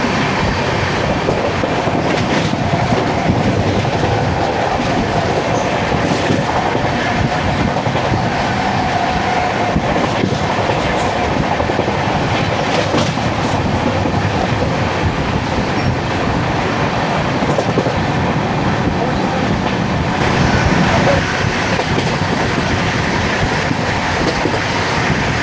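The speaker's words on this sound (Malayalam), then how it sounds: "ഇവിടെ ഇപ്പോൾ ഏതോ പാസഞ്ചർ ട്രെയിൻ വരാനുണ്ടെന്ന് തോന്നുന്നു." A passenger train rolls steadily past a station in Kerala, its loud, continuous wheel rumble and rhythmic clickety-clack filling the whole span, with faint squeals of wheels now and then.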